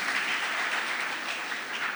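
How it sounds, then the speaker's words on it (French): An audience claps for honoured participants at a launch session, a steady dense wash of applause filling the whole stretch without a break. "on peut les applaudir."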